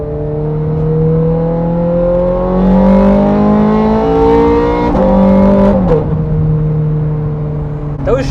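A 2009 Ferrari 430 Scuderia engine revs loudly and close, its pitch climbing through two rising pulls with a quick single-clutch gearshift between them, then easing off.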